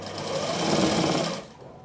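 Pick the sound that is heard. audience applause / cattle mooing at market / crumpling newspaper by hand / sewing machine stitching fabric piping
sewing machine stitching fabric piping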